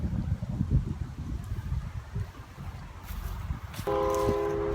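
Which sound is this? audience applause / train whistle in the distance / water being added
train whistle in the distance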